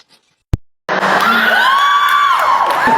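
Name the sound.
audience member yelling at comedy show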